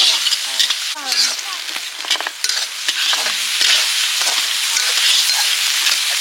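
Food for a picnic curry fries in a pot, with a continuous loud sizzle and hiss broken by scraping stirring strokes in the first few seconds.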